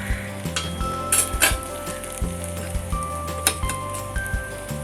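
Puran filling sautés in a pan with a steady sizzle, while a spoon scrapes and clinks against the pan at intervals and a faint tone hums in the background.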